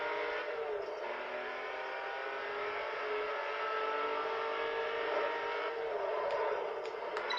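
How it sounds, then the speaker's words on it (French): Engine note of a car in the racing video game Test Drive Unlimited 2, a steady sustained drone with shifting tones as it revs, continuous and alone without talk. "Donc là on n'est pas avec la même voiture. C'est pour ça qu'il n'y a pas le même bruit."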